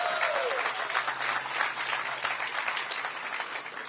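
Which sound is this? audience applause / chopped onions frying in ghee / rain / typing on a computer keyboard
audience applause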